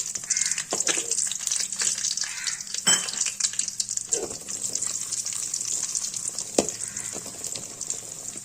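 Cashews and raisins fry in ghee with a close, bubbling sizzle, broken by a few sharp scrapes and clinks of stirring against the pan.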